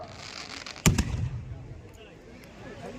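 Fireworks at a festival on Digha Mohona sea beach: one sharp, loud burst followed by a crackling tail that fades into a murmur of crowd noise in the open air.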